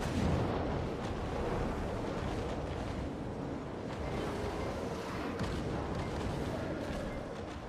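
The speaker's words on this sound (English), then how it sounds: "A big explosion." An explosion during a video game boss fight makes a deep, continuous rumbling roar that fills several seconds at an even level, with no clear voices over it.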